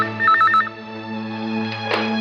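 A telephone rings with a short warbling electronic trill, followed by a sustained tonal hum and a brief burst of noise, with no talk.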